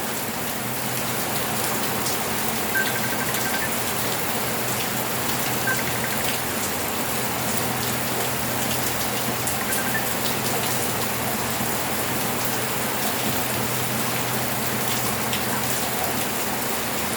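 Steady rain pours down across the whole stretch, a dense continuous hiss of drops on surfaces with no voices, close and even in level throughout.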